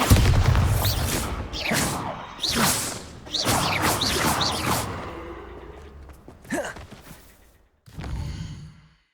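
Bombarda explosion spells go off in a Hogwarts Legacy duel, a run of loud whooshing bursts and booms in quick succession, fading toward the end with a final smaller blast.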